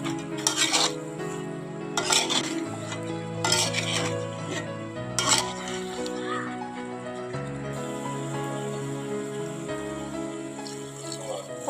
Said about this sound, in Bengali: তারপর ভেজে রাখা আলু দিয়ে দিলাম